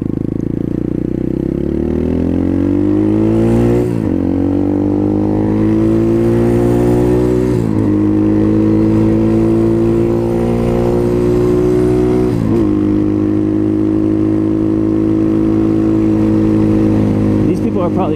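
A 2019 Apollo 250cc Chinese dirt bike engine runs hard at speed, loud and close, its pitch climbing through gears with brief dips at each shift.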